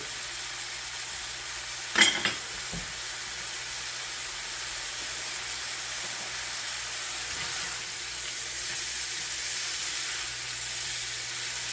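A steak fries in butter in a pan, giving a steady, even sizzle that continues throughout. A brief clatter near the start rises above it.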